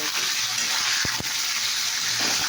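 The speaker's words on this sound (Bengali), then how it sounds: "এবার একটু ফুটলে চাপা দিয়ে দেবো, এটাকে পটল ভাজাটা" Sliced pointed gourd (potol) frying in hot oil with a little sugar in a pan, a dense steady sizzle that holds loud and even throughout, with a couple of faint taps.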